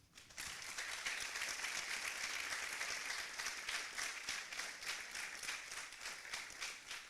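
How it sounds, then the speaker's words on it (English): An audience at an African architecture students' congress in Uganda claps steadily for several seconds, a dense, even applause that begins suddenly and fades slightly toward the end. "So a round of applause again for everyone"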